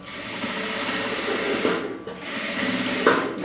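A sewing machine runs stitches along the hem of a cotton dish towel, a close, continuous rapid whirring that pauses briefly once before running on, with no voices.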